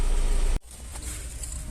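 A Mahindra Bolero pickup with a BS6 engine and fault code P2463 (soot buildup) idles with a steady, close mechanical hum. An abrupt cut splits a louder, denser stretch from a quieter, even stretch of running.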